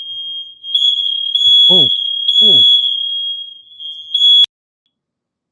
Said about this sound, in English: Was that your fire alarm?